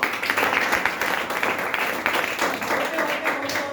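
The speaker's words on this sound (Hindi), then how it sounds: "जोरदार तालियां" An audience breaks into hearty applause at a talk, bursts of clapping that swell and dip in uneven waves across the moment, with voices mixed in under the noise.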